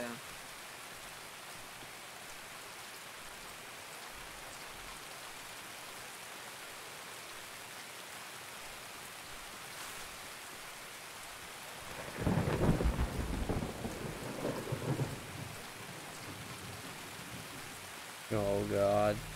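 Steady rain hisses throughout, with a rumble of thunder rolling in midway and a brief burst of voices near the end, in the video game Escape from Tarkov.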